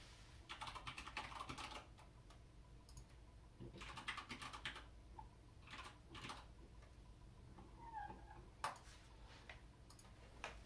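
Someone enters a Wi-Fi password on a computer keyboard, the soft key clicks arriving in several short bursts with pauses between them, close and quiet.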